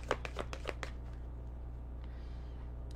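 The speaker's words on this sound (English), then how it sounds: "That was like the sloppiest shuffle." Oracle cards being shuffled in a loose, sloppy riffle, giving a quick run of crisp papery flutters and snaps up close that stops after about a second, leaving quiet room tone.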